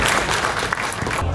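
A crowd at the World Gathering of Kashubians in Szemud applauds in a short, loud, dense burst of clapping.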